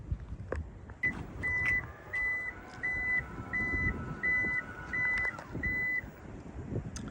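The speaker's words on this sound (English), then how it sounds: "I'll open the tailgate for you guys." A 2024 Toyota Land Cruiser Prado's power tailgate opens with a regular series of short electronic warning beeps over a low motor hum, followed by a soft thud as it stops, heard close with some background outdoor noise.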